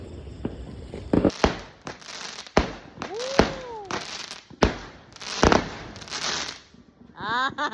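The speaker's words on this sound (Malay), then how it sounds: "Bunga api tak? Tengok bunga api tak?" Fireworks bang and crackle at irregular intervals, some sharp close pops, with whistling rising tones in between.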